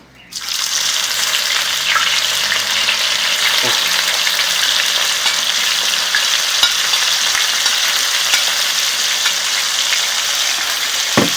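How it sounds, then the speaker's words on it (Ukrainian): Chopped onion goes into hot oil left from frying pork on a sadj, erupting abruptly into a loud, continuous sizzle that crackles steadily throughout. "Ну так, да, запускаємо в цю олію, де смажилось м'ясо."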